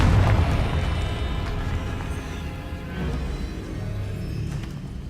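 A Confringo spell explosion in Hogwarts Legacy lands as a heavy boom at the start, then rumbles and crackles for several seconds, gradually thinning into a lingering low roar with scattered small pops.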